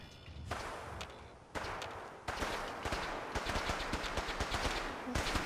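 Gunfire in the video game Fallout 4: rapid, loud bursts of automatic shots crackling in quick succession, broken by short pauses, with no talking.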